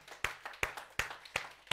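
A church congregation claps in steady unison at an evening service, the beats about a third of a second apart and fairly faint, with a low room murmur between them.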